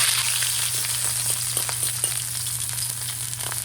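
Salmon fillet frying in a pan as it is flipped, giving a steady, close hiss of sizzling oil with a few soft crackles and no voices.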